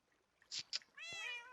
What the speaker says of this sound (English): we're gonna grab one of the cats